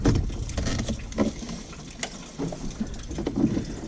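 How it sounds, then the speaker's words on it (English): Hands unplug the mass airflow sensor connector on a 2008 Subaru Impreza during engine removal, producing a close run of small plastic clicks and rattling handling noises with no speech. "Disconnect the mass airflow sensor."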